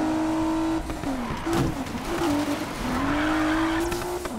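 Car racing flat out in Need for Speed Payback, a high engine wail rising and falling through gear changes, with tire squeal and skidding, loud and close with no talk over it.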